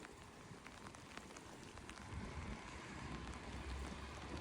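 Quiet, steady hiss of rain heard while riding a 1989 Koga Miyata TerraRunner bicycle, a faint broadband patter that swells slightly partway through, with no one talking.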